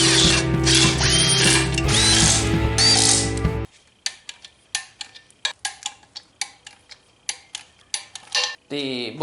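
Torque wrench tightening adapter plate bolts during a clutch and transmission install: after a few seconds of louder mixed noise, a string of sharp, separate clicks and ratchet ticks follows close to the mic.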